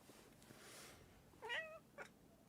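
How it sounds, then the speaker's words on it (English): A cat perched on someone's shoulder lets out a short, faint meow followed by a brief chirp, close but quiet against a low hiss. "I've got a cat on my shoulder."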